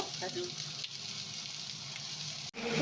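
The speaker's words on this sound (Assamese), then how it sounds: "এতিয়া গোটেইখিনি অকণমান ফ্ৰাই কৰিব" Cubed chilli and onion frying in a pan for chilli chicken, a steady, close, even sizzle that runs throughout with a brief break near the end.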